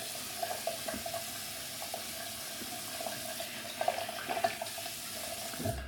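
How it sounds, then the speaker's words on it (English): Tap water runs steadily into a sink while a shaving brush is rinsed under it, a soft continuous splashing hiss with small irregular sloshes and no talking. "I'm gonna rinse the brush a little bit first."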